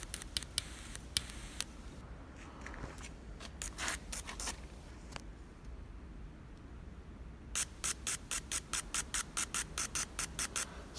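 Short bursts of a spray paint can atomizing paint during an engine refresh, several quick hisses early on, a pause, then a rapid regular series of sharp spray bursts toward the end, close and fairly loud.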